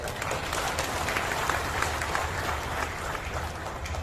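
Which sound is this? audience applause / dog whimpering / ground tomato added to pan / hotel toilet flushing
audience applause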